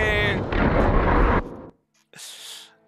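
A gunshot in the video game Horizon Zero Dawn: a loud burst with a heavy booming body, then a short pause before a second, fainter crackling report; a harmonic voice briefly opens the clip.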